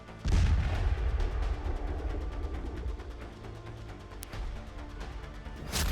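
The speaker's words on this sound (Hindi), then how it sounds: "तालिबानी फौज पाकिस्तान की फौजी चौकियों के परखच्चे उड़ा रही है।" Artillery and gunfire as Taliban fighters blast apart Pakistani army border posts: a deep, rumbling barrage of booms with sharp cracks, sustained and loud throughout, with no talking.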